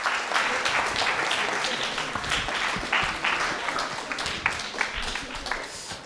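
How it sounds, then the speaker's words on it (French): A lecture audience gives a robotics researcher a steady round of applause, a dense, even wash of many hands clapping close by throughout, with no pause or fade. "Vous pouvez applaudir Jean-Paul Laumon."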